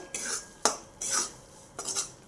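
A spoon scrapes and clinks against a pan while moong dal is stirred and roasted, in four or five distinct scraping strokes with short gaps between them, fairly close and alone.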